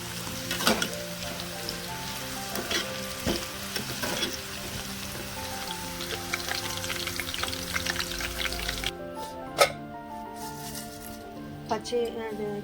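Curry leaves frying in hot oil for a restaurant-style okra stir-fry, a steady close crackling sizzle with sharp pops, softening near the end, under background speech.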